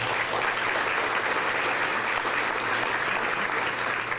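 A large audience at the CREW Tampa Bay 2014 Economic Summit applauds sponsors, giving a dense, sustained wash of clapping that stays loud and even throughout with no speech over it.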